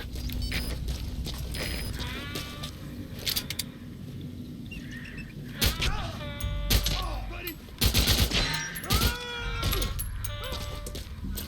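Loud bursts of gunfire in the stealth action game Metal Gear Solid V, rapid shots clustered in the second half over a steady in-game background rumble, with brief voices and chirpy game sound effects.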